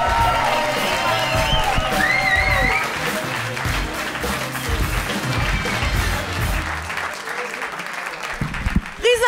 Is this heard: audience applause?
yes